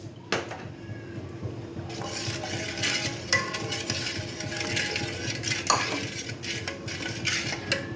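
Milk stirred steadily in a pot on a low-flame stove, a spoon scraping and clinking against metal in repeated close strokes, with soft sizzling beneath.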